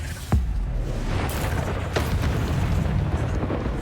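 An Incendio fire spell cast in the Hogwarts Legacy video game: a sharp blast near the start followed by a steady roaring, crackling burst with a couple of further flares, loud and close, with no talk.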